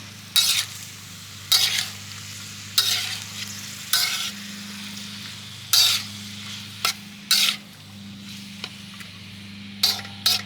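Haluski ingredients being stirred in a pan with about a quarter cup of avocado oil, a repeated rhythm of spoon scrapes and clatters over a faint steady sizzle.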